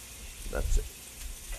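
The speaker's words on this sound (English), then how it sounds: "You hear the sizzle, you're ready to go" Oil sizzling in a hot pan, a soft crackling fry under a brief spoken remark, fairly quiet and close.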